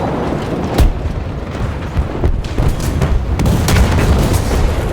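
Ho-Ro self-propelled gun in War Thunder, with loud booming shots and heavy rumbling over a constant roar of engine and battle noise, close and forceful.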